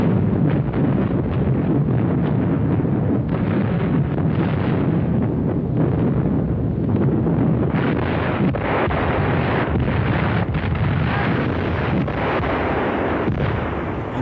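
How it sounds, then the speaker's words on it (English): 20mm and 88mm flak guns fire a heavy barrage at a Kuban port under air attack, rumbling booms and rapid thuds merging into a loud, continuous roar with wind-like noise. "20mm and 88mm flak guns provide a heavy barrage"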